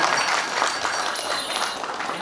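Audience applause at a large family assembly meeting, continuous crowd clapping for a couple of seconds at moderate loudness, with no clear speech over it.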